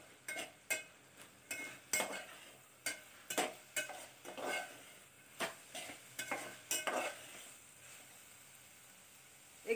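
Spoon stirring garam masala and spices through moong dal khichdi in a pan, with a steady run of close scraping strokes, roughly one every half second over a faint sizzle, then a quieter pause near the end.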